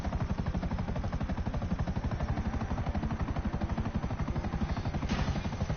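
Steady rapid thumping of video game helicopter rotor blades with a constant engine whine, loud and close, with no voices.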